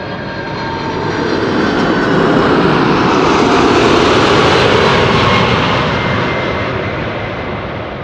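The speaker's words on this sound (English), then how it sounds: "let's look and listen to the Cargolux Queen." A Cargolux cargo plane at Amsterdam Schiphol Airport, a loud, close engine roar that swells to a peak and then slowly fades, with no voices.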